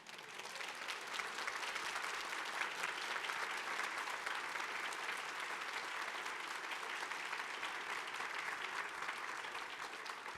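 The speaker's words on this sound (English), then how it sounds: "I hope you could hear the rousing applause for that answer." Packed large-room audience at a conversation with Supreme Court Justice Sonia Sotomayor giving rousing applause, a thick unbroken roar of clapping that holds at a steady, strong level the whole time.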